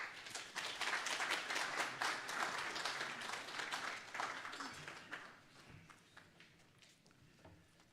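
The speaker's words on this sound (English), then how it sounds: "with a resounding round of applause, help me welcome Honorable Kweku Amprechum Sapong." An indoor audience at a diaspora investment meeting gives a round of applause to welcome a speaker, fairly faint and distant, with scattered claps fading after a few seconds.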